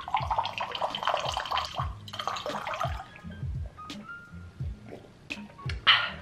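Tap water runs and splashes in short bursts, with drips and light clinks as water is drawn to drink; quiet and close, with no talking.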